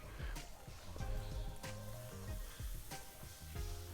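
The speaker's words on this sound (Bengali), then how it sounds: "অল্প অল্প করে কর্নফ্লাওয়ার গুলানোটা দেব আর আমি নেড়ে চেড়ে দেব" Cauliflower manchurian sizzling in a pan as a cornflour slurry is stirred in, with close, busy crackling and repeated scraping stirs in an uneven rhythm, no voices.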